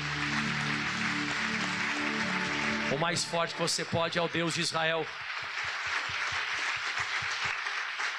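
A church congregation claps loudly and steadily while a preacher speaks over them, then music with a rhythmic beat joins under the continuing applause.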